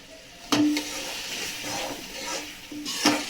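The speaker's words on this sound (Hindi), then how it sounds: "अब मैं डालूंगी इसी के साथ थोड़ा सा पानी" Water is poured into spices frying in a pan for a bottle gourd curry, a sudden sizzle and hiss that settles into steady bubbling, with a couple of utensil clinks.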